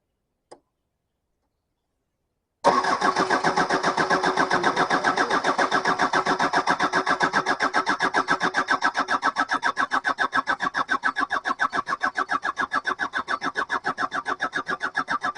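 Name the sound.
starter motor cranking a diesel engine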